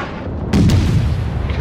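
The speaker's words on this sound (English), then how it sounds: "And I just took a massive broadside" A heavy naval broadside slams into a cruiser in World of Warships: one sudden deep boom followed by a rumbling, sustained roar with a second crack just after, loud and close with no speech.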